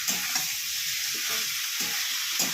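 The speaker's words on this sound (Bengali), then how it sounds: "চিকেনটা একটু নেড়ে নেবো, হালকা ভেজে নেবো।" Chicken and fried onions sizzling in a pan, stirred in several short scraping strokes over a constant bright hiss of hot oil, heard up close.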